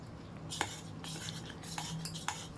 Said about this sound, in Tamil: வாட்டர் ஆட் பண்ணிவிட்டு நல்லா மிக்ஸ் பண்ணிப்போம்